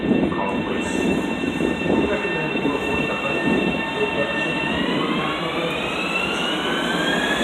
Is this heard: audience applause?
no